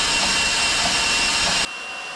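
A bandsaw cuts metal on the eject door pivot of an Eastonmade 60C, a loud steady whine and grind that stops abruptly near the end, leaving lower background hum.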